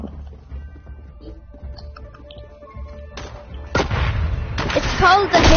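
Shotgun blasts in a video game, a few loud booming shots arriving in the second half over quieter game background noise.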